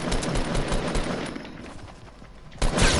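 Rapid gunfire bursts from a Fortnite Battle Royale match, loud repeated shots in quick clusters with a heavier burst near the end.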